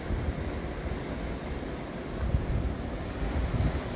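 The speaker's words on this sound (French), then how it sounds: "il y a des grosses vagues qui se brisent sur les rochers" Big Atlantic Ocean waves break on rocks at the Îles du Salut off Kourou, a steady rumbling surf roar with wind buffeting the microphone and no voices.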